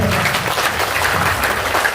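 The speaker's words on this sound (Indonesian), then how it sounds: "Tepuk tangan buat Bapak Ibu." A roomful of people clap briskly and loudly in a short, continuous burst of applause at a seminar, with no voices over it.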